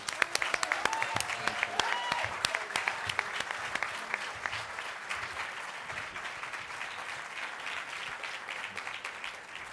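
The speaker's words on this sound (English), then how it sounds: "So please give a round of applause to Dan." Applause rises from the crowd at a literary benefit dinner, a steady sustained clapping heard from some distance with sharper claps at the start, fairly faint overall.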